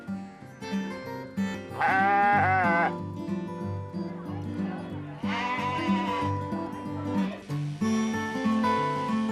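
Sheep bleat at a sheep show in wavering, nasal cries over a steady backdrop of music-like tones, with a couple of prominent bleats standing out.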